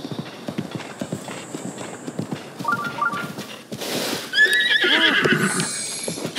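A horse's hooves clip-clop steadily, then the horse gives a loud, close neigh, in a Zelda video game set in Kakariko Village.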